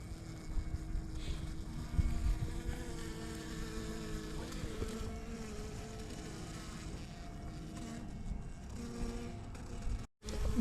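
Honey bees, many of them young ones making orientation flights, hum steadily around a beehive, a soft, continuous buzz close by that holds for about ten seconds and then cuts out briefly near the end.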